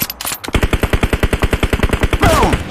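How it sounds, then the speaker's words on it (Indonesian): Rapid automatic gunfire in a shooter video game, a loud, evenly spaced burst of about twenty shots followed by a brief whooshing effect. "Boom, headshot."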